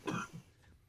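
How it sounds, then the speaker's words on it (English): A person gives one sharp, close cough, followed by a softer throat-clearing rasp, with no talking. "I'm gonna cough."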